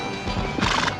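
A barrel-racing horse runs with fast, dense hoofbeats, loud and close, mixed with rushing noise and a brief whinny-like sound.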